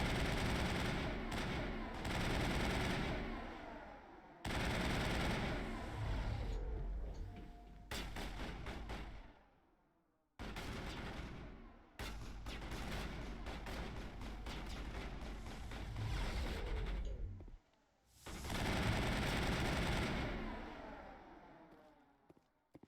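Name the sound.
assault rifle gunfire in Mass Effect video game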